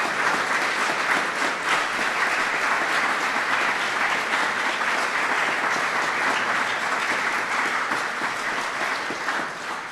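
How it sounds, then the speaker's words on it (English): An audience at an official swearing-in ceremony for the US ambassador to Japan applauds steadily and densely for about ten seconds, then begins to taper off at the end. "Would you give them all a round of applause for their kindness?"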